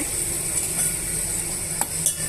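Dry fruits frying in ghee for semiya kesari, a steady soft sizzle with occasional faint stirring clinks from the pan, close and continuous with no talking.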